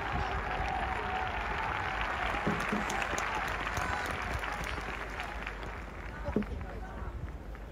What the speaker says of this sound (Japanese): まあこんな感じで拍手で終わりました。